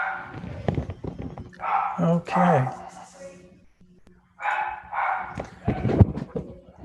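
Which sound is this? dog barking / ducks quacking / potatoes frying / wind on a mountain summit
dog barking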